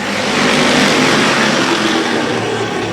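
Race car engines roar loud and continuous during a qualifying session at a dirt speedway, a dense sustained drone with no voices.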